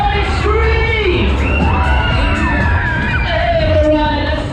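A crowd on a backwards-spinning Super Trooper funfair ride at Chichester's Sloe Fair whoops, yells and screams loudly and continuously, with overlapping shouts rising and falling over loud ride noise.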